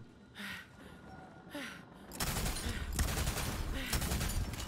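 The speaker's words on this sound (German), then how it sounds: "Ich schieße hier gerade so ein paar Leichen kaputt." Borderlands 3 video game gunfire shooting at corpses, starting with a few scattered shots and then becoming dense, continuous rapid fire, moderately loud with game sounds mixed in.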